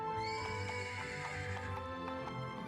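A horse in the Save the Villainess video game gives a clear, loud whinny with tremulous pitch over soft clip-clopping hooves, lasting under three seconds, with no talk.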